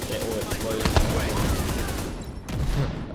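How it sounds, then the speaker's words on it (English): Shotgun fire and a chain-reaction explosion in the shooter game The Division 2 make a loud, dense burst of overlapping blasts and crackling reports with rumbling booms, ending in one sharp final crack and echoing tail. "I just shot a shotgun shit. I might have shot something that caused a chain reaction explosion"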